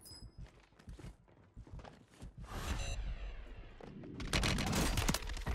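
FJX Horus SMG fire in a Warzone match, heard as rapid automatic bursts mixed with footsteps and game effects, growing louder and denser toward the end.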